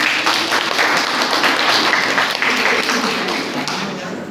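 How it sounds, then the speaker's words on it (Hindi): Steady crowd applause fills a college program hall, a continuous wash of many hands clapping at moderate loudness, with some voices mixed in. "उनके लिए तो तालियां बनती हैं।"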